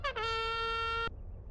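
American-style truck air horn in Euro Truck Simulator 2 gives one long, loud, steady blast after a brief initial toot, then cuts off sharply.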